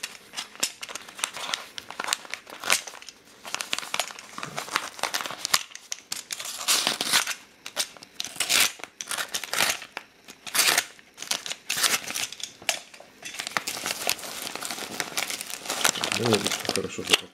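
A parcel holding a coin won at auction is unwrapped close up, with dense bursts of crinkling and rustling packaging and occasional tearing that continue throughout while a person talks.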